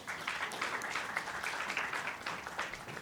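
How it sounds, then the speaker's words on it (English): A conference audience applauds a panelist receiving a token of appreciation, a continuous wash of clapping heard at a moderate, somewhat distant level throughout. "Please give him a round of applause."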